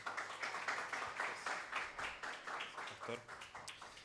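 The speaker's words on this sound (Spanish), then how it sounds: "Un aplauso para el pastor esta mañana." Church congregation at a Baptist service applauds with a quick, uneven ripple of hand claps, moderately near and fairly light, with murmured voices underneath.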